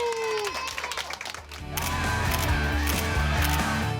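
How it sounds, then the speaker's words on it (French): An audience at a school library event claps and cheers loudly over music. The burst of crowd noise rises suddenly and carries on as a dense, continuous wash. "Je vous demande de faire du bruit et puis d'applaudir Mégane et Théo qui nous ont aidés dans le projet."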